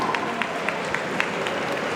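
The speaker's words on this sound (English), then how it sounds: "Everybody, please give them a round of applause." A live audience at a shader coding competition applauds the competitors, with a continuous wash of crowd noise punctuated by distinct, regularly spaced claps.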